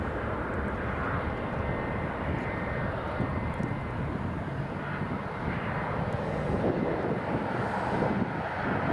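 An airplane departing Dublin Airport with its landing gear retracting: a steady, broad engine roar with wind buffeting the microphone, continuous and fairly loud throughout, no voices.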